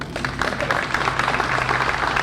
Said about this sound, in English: A round of applause outside Modesto City Hall Thursday as the mayor proclaimed, "Let's play ball."